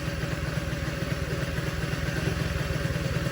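A Honda CT70 K3 motorcycle engine idles steadily, a busy low putter with a slight clattery edge that holds even and continuous throughout, no voices present.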